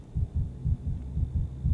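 A fast heartbeat heard during a medical examination in Pathologic 3, low thudding pulses repeating in quick, steady pairs, close and alone.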